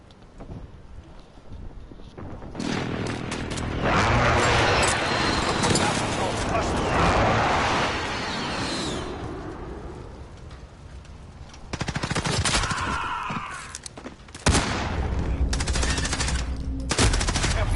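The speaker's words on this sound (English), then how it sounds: "Enemy precision airstrike." A precision airstrike and gunfire in a military shooter game: sustained loud roaring blasts and rattling automatic fire, with later bursts of shots, under intermittent voice callouts.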